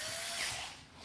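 A drill stepping a hole up to 3/8 inch in a Ridgid job site box, a brief, steady, close whirring drone that holds level and then eases slightly.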